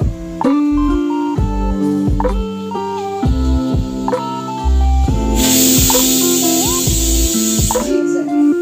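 A pressure cooker lets off a loud hissing steam whistle for a couple of seconds, partly masked by loud background music that plays throughout.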